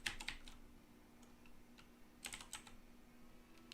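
Scattered keystrokes on a computer keyboard as someone types a search, a few quick bursts of clicks separated by pauses, fairly faint over a steady low hum.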